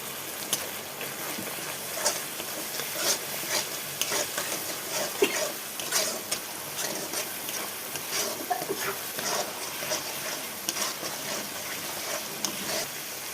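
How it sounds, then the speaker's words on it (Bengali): Spice paste with turmeric sizzles and is stirred in a pan while Bengali vegetable curry cooks, a continuous frying hiss broken by irregular scraping and stirring clatters. "মশলাটা কষানো হয়ে গেছে"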